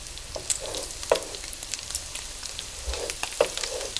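Egg cooking in a pan for a kielbasa stir-fry makes a steady crackling sizzle, with several sharp scrapes and clinks of a utensil against the pan, close up and without speech.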